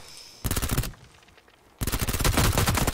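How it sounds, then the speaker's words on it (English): Two loud bursts of rapid Vector submachine gun fire in a video game firefight, the first short and the second longer and sustained, separated by a brief lull. "I got them all with a fucking vector"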